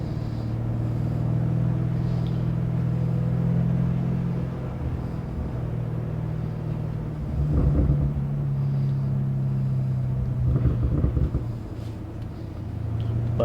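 BMW M5 on stock exhaust with turbos, cruising on a winding mountain road: a steady low engine drone and road rumble, swelling twice into brief louder throttle surges, with no talking.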